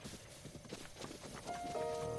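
Horse hooves in Breath of the Wild: fast rhythmic clip-clop of a running horse, close and steady, with a tonal game sound entering near the end.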